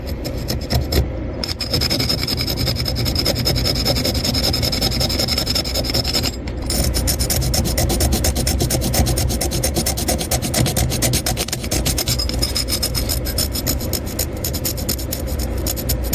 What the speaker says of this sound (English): I'm gonna sand this leg down and some of the surrounding, put a little detail in it.